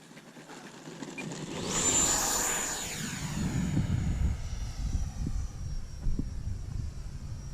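An Arrows RC Marlin EDF model jet flies past outdoors with a whooshing ducted-fan whine that swells as it nears, then holds a steady rushing drone in the distance.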